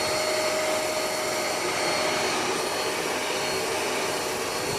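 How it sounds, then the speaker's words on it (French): A DIY cyclone workshop vacuum runs continuously, a loud steady rushing roar with a faint whine, close and unbroken for the whole stretch with no talk. "Donc j'allume. On constate ici une bonne aspiration."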